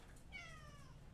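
A house cat named Taku-chan lets out a single short, faint meow, heard alone in a quiet indoor room.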